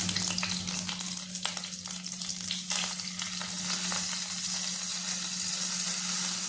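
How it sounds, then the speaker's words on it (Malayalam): Grated coconut roasting in coconut oil in a pan for Onam kootu curry, a steady close sizzle and crackle running throughout with occasional stirring scrapes, no voices. "ഈ തേങ്ങയിൽ നിന്ന് കുറച്ച് തേങ്ങ എടുത്ത് നമുക്കൊന്ന് വറുത്തെടുക്കണം"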